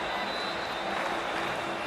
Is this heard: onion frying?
no